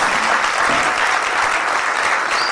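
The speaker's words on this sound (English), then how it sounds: "Everybody give a hand applause for Myrtle for giving us kudos." Audience applause at an outdoor community cultural festival, a dense, loud, continuous clapping from a crowd sustained evenly throughout.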